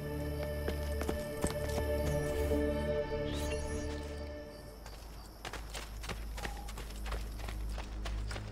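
Horse hooves clip-clop in Assassin's Creed Brotherhood, a steady patter of footfalls under a continuous bed of game music and ambience.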